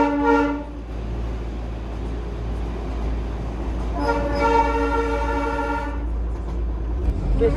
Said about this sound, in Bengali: এখানে টয় ট্রেনের লাইন এবং টয় ট্রেনের স্টেশন সম্পূর্ণ আলাদা